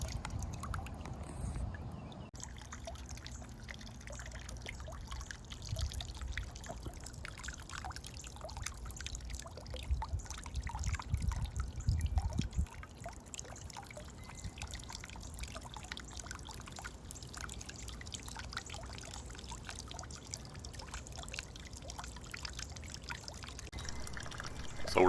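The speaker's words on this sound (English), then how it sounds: "water feature for your patio or porch or what have you" A solar-powered patio water feature trickles steadily over river rocks, a soft continuous pouring and dribbling close by with no talk.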